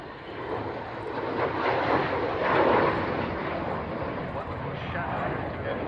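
A fixed-wing aircraft roars over an airfield, a broad engine rush that swells to a peak midway and then slowly fades, with no voices.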